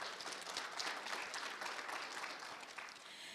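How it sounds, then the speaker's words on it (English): Faint, distant applause from a crowd at a national ICT summit, a continuous wash of many hands clapping without any speech. "Please give yourselves a round of applause for just being here today."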